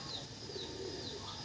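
Racing pigeons coo softly and repeatedly at a loft in Laguna, a low, even murmur with faint higher chirps over steady background noise and no talking.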